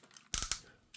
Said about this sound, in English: again with those ratchets